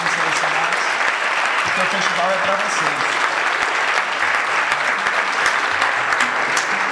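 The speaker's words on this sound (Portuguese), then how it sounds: "E isso eu peço uma salva de palmas para os desenvolvedores que participaram" An audience at the BIG Festival 2015 awards ceremony, an independent games festival, applauds the participating game developers with sustained clapping while a presenter speaks over it.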